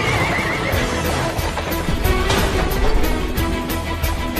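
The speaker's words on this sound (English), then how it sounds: "This is a horse-drawn carriage." Horses pulling a horse-drawn carriage whinny repeatedly over a continuous clatter of hooves and rolling wheels, close and busy throughout.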